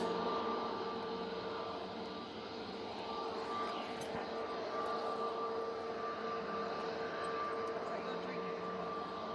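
A Ryanair airliner bound for Belfast passes over Manchester Airport in stormy weather, its distant engine drone steady and moderately faint, with wind noise mixed in.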